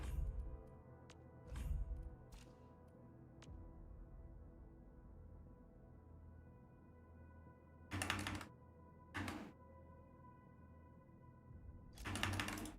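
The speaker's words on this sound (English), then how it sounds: "typing them out like you did there without the comma" Codes are typed on a computer keyboard in short, quiet bursts of clicks, separated by long pauses of near silence, with a couple of slightly louder clusters of keystrokes near the end.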